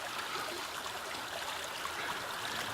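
Shallow creek water, roughly knee-deep, flowing steadily just below a bridge, a continuous close rushing and trickling wash with no pauses and no voices.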